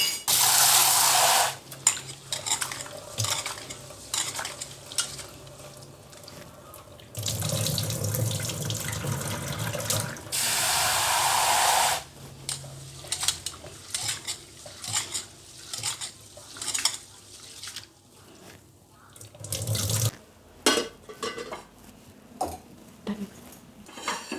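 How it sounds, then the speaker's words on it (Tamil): Rice and moong dal being washed in a pot, with bursts of running tap water, sloshing and stirring, and occasional clinks of the vessel, all close up with no talking. "சிறுபருப்பு இப்போ ஒரு பாத்திரத்தில் போட்டுவிட்டு அரிசியை போட்டு நன்கு கழுவ வேண்டும்."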